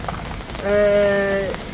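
Steady rain pattering on a tent at a campsite in Italy during a stormy downpour, with a brief harmonic tonal sound rising over the rain in the middle.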